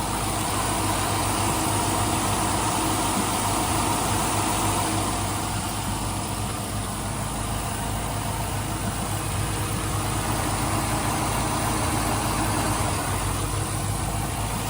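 1999 Pontiac Firebird Trans Am with a 5.7-liter LS1 V8, idling close up under the hood, a steady loud rumble with belt whir and no change throughout.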